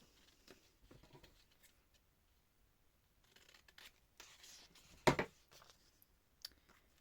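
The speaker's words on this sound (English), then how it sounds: "So I can snip that bottom piece off" Scissors snip through a piece of paper, giving a few quiet clicks and one sharper, louder cut near the end, with soft rustling between the cuts in a quiet room.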